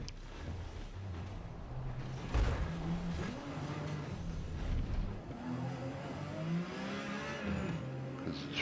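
A Porsche 956 racing car in Forza Motorsport, sliding on a wet track with cold tires, its engine droning and revving continuously at close range, pitch rising and falling through gear changes with no pauses.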